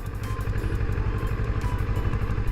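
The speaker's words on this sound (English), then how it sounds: "But we're adding a little bit of throttle here." A Kawasaki Ninja 650 motorcycle engine runs close by with a little throttle applied, a steady low rumbling pulse that holds without pause across the moment.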